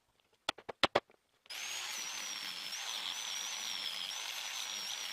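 An electric power sander runs with red sandpaper on the reachable outer surfaces of a piece under DIY restoration, whining steadily and close after a few short taps at the start.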